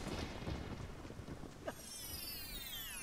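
Rain and a low rumble of thunder in the Zelda: Ocarina of Time game, a steady wash of rainfall with a brief thunder-like swell partway through, later joined by a rising tonal sweep.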